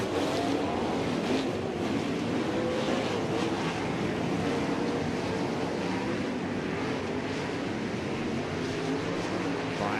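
Race cars on a dirt oval roar through a restart at a feature race, a dense, steady engine drone and rumble filling the scene throughout, loud and continuous with no clear voices.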